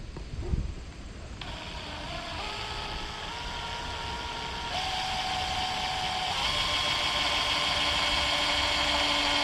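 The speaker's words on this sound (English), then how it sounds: "It's gonna pretty much drill itself straight through regardless of how much pressure you put on it." A power drill whines steadily, its pitch stepping up as it bores through plastic on a Redcat Kaiju RC car arm, growing slightly louder and more strained toward the end.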